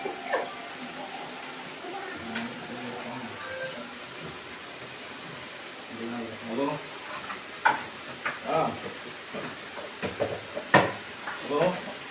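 Vada frying in hot oil, a steady crackling sizzle running under background voices and kitchen clatter, with brief louder bursts toward the end.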